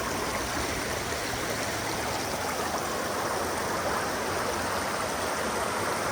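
Mountain creek water rushing steadily and close by, a dense unbroken wash of flowing water with no voices.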